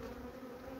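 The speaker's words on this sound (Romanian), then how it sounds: "o albinuță mai puturoasă, nu vrea să se dea de acolo" A single honeybee buzzes at a beekeeper's hive during colony inspection: a steady, low droning hum, close and faint, lasting under a second with no voices.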